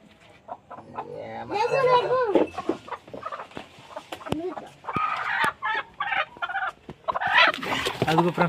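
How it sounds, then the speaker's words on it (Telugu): A home-kept hen around three years old, being set to hatch chicks, clucks and squawks loudly at close range in uneven bursts. People talk intermittently between the calls. "అదిగో ఫ్రెండ్స్ మా కోడి ప్లేస్ అయితే అది మా కోడి"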